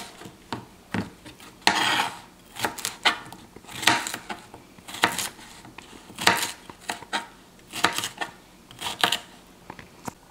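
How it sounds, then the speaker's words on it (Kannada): A knife chopping ridge gourd into small pieces on a cutting board, trimming the ends first, giving a series of sharp, irregular close-up chops and taps with brief pauses and no talk. "ತುದಿಗಳನ್ನು ಹೀಗೆ ಕಟ್ ಮಾಡಿ ಈ ಥರ ನೀವು ಚಿಕ್ಕ ಚಿಕ್ಕ ಪೀಸ್ಗಳಾಗಿ ಮಾಡ್ಕೋಬೇಕು"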